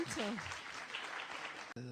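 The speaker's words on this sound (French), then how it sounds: "On peut applaudir le professeur Raoult." An audience applauds Professor Didier Raoult at a conference, a soft, distant patter of clapping that runs under a voice speaking at the start and fades out abruptly near the end.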